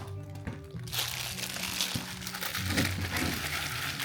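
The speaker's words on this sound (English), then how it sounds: "Sorry for all the crinkling noise." Plastic packaging crinkles and crunches in loose, continuous bursts as a battle belt is unboxed, close and fairly loud throughout.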